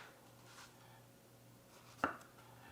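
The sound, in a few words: knife slicing zucchini into pieces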